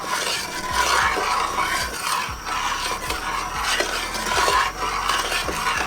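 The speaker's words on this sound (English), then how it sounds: "And I'm just going to stir that around." A spoon stirs half and half in a cooking pot, scraping and swishing in a steady repeated rhythm, close and fairly quiet, with no talking.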